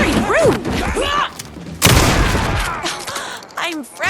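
Gunfire in Alan Wake 2 cracks out in a couple of loud bursts during a chaotic Night Springs fight, with voices shouting and speaking over the shots and a ringing tail after the blasts.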